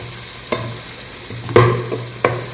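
Onions, green chillies and spices such as turmeric and mixed masala frying in a pan for a fish and flat bean curry, with a steady low sizzle broken by three sharp scraping stirs of a spoon against the pan.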